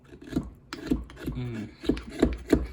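Small knife thinly shaving wood while carving a netsuke clam shell, a series of short dry rasping strokes repeating at a steady rhythm, close and fairly quiet, with no talk.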